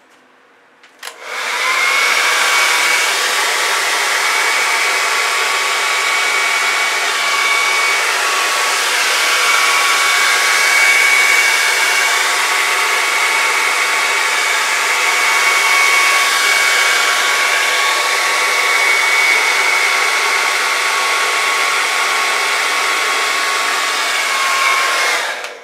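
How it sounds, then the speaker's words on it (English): Hair dryer switched on after a click and blowing steadily and loudly for about 25 seconds, pushing fluid acrylic paint over pre-stained wood; a constant whooshing hiss with no talk. "Where's my blow dryer?"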